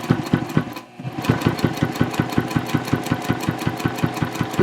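Home sewing machine stitching through a tote bag with tape along the seam, a steady fast run of mechanical needle clicks with a brief pause near the start, close and continuous with no talk.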